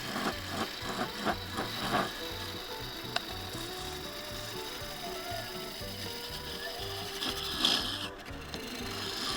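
Wooden bowl spinning on a lathe in a woodturning duel, the turning tool cutting with a steady, continuous scraping whir and repetitive mechanical ticking that stays close and fairly loud throughout, with a few sharper bursts.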